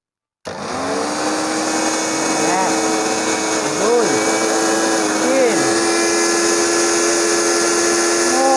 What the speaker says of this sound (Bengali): এরকম একটা ব্লেন্ডারে গ্রাইন্ডারে এটা একটু চালাই